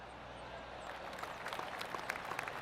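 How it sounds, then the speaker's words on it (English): Polite golf clap from spectators at the Arnold Palmer Invitational, a scattering of soft, sparse claps rising after a quiet start and staying fairly faint over a low outdoor hush. "Oh, golf clap."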